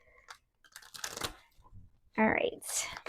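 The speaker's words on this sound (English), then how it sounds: "Let's give it one more shuffle." Tarot cards are shuffled in the hands in short bursts of riffling and crisp papery rustling, close and fairly quiet, with a louder burst toward the end amid a speaking voice.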